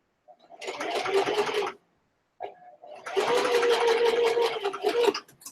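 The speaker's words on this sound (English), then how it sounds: "We just sewed that stitch right down the top." A sewing machine stitches a zipper onto fabric in two steady bursts of close, even running, separated by a short pause, with no talk over it.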